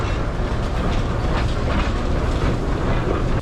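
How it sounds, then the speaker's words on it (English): A small diesel shunter locomotive rolls past on heritage railway track, its rumble and wheel clatter loud and continuous at close range, with no talk. "Little diesel shunter."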